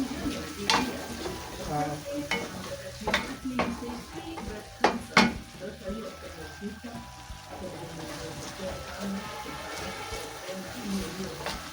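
Jute mallow and cowpea leaves are stirred in a cooking pot, giving scraping, clinking utensil strokes with a soft sizzle beneath and a brief voice.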